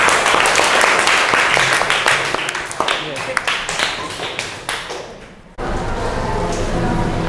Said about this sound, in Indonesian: Ya, aplaus untuk kelompok ke-6.